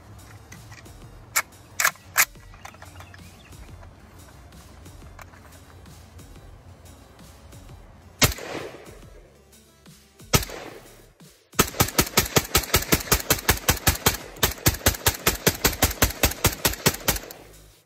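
A Century Arms VSKA AK47 rifle fed from a Korean metal magazine fires outdoors. A few scattered single shots and clicks come first, then a loud rapid string of evenly spaced shots near the mic.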